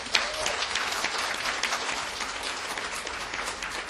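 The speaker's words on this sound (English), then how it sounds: "Can we give God a big round of applause?" A church congregation gives a big round of applause at a Christmas cantata, continuous dense clapping at moderate volume, steady throughout with no talk over it.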